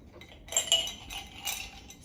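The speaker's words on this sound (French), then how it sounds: "J'ai mis des glaçons dedans." Ice cubes clink against a glass of iced matcha made with cow's milk, giving a few light, bright taps close by, with two clearer clusters of clinks and no talking.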